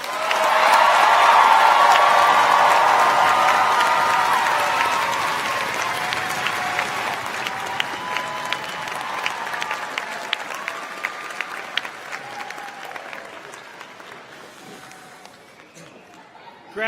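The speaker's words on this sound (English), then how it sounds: "Please join me in one more round of applause." A large crowd at a graduation commencement ceremony in a hall applauds. Loud sustained clapping and cheering peak early, then slowly thin out into scattered claps and chatter over many seconds.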